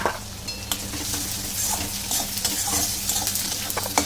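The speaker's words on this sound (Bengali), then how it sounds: "দিয়ে ভালো করে কষতে থাকবো" Pangas fish being stir-fried with coriander and Kashmiri red chili powder, a steady close sizzle with repeated scraping and stirring clinks of a utensil against the pan, no voices.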